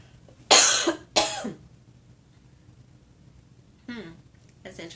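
Two sharp, loud coughs come close together near the mic, followed a few seconds later by softer throat sounds and a brief voice in a quiet room.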